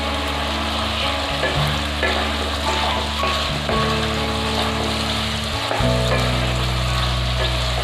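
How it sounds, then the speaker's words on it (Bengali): Crushed fried lentil dumplings go into a hot pan for a squash curry, setting off a steady, close sizzle with soft stirring scrapes and a louder burst of frying near the end. "ভাজা বড়িগুলো ভেঙে নিয়েছি ওটা দিয়ে দিচ্ছি দেখুন"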